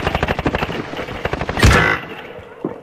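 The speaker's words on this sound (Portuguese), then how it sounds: "Tá um tiro lá em cima." Rapid automatic gunfire in Call of Duty Warzone rattles in quick bursts close by, followed by a heavier blast and a fading echo.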